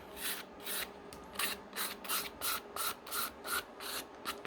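Sandpaper rubs back and forth over a resin model kit part for a Johnny 5 toy figure, a close, steady run of about ten evenly spaced scraping strokes with no voices.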